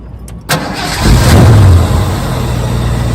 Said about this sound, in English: So I'll start it up. We'll have a listen to the engine and exhaust